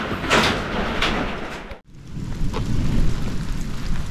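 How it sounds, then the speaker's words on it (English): Hail pelting down during a storm at a rural hillside pole barn, a dense rattling patter with a few louder hits, briefly interrupted by a sharp cut before resuming steadily. "we're getting some hail"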